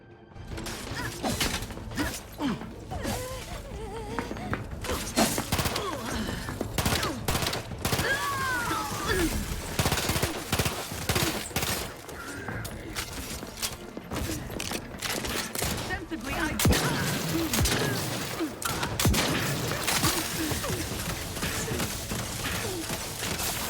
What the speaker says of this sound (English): We really shooting out here, huh?